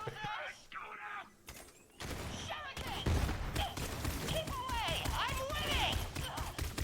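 Rapid rifle fire from the Bekah rifle in Borderlands 3, bursts of shots under frequent talk and game voices, fairly faint overall.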